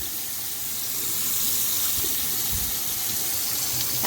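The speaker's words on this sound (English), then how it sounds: "I'm gonna turn my water off." Tap water runs steadily from a faucet into a sink while a makeup brush is wetted for cleaning, a continuous close hiss and splash with no talking.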